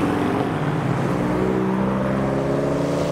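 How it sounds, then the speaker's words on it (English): A brown Mercedes C63 and a BMW M2 on platinum wheels pull away from a car show, a steady engine drone with rising gear-tone sweeps as the cars accelerate past, continuous and fairly loud throughout. "here comes the brown C63 and the M2 with the platinum wheels as well"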